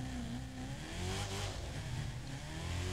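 Chevrolet Camaro ZR1 in The Crew 2 racing game, engine held at high revs with a loud, continuous roar that rises and falls slightly in pitch, no speech over it.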